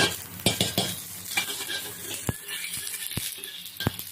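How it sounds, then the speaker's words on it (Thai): Spices being stir-fried in lard in a pan for a Thai stir-fried luffa gourd dish: a soft continuous sizzle with sharp scraping and clinking strokes of a spatula against the pan, a few distinct knocks spaced through. "นี่เราคั่วเครื่องก่อนเนาะ"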